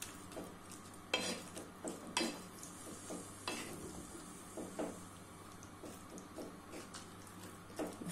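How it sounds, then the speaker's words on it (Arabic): Chicken with spices being stirred in a pot over a flame for Moroccan chicken and almond pastilla, giving a faint background sizzle broken by scraping utensil strokes and clinks against the pot at irregular intervals. "دابا غادي نقلب هذاك الدجاج"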